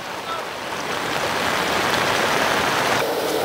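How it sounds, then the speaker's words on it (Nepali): Heavy rain pouring down near Dharan beside the flooding Bhalu Khola stream, a dense continuous hiss of falling water and rushing flow that swells slightly louder partway through, with no clear talk. "आज बिहानदेखि अत्यन्त ठुलो पानी परिरहेको छ धरान आसपासको क्षेत्रमा"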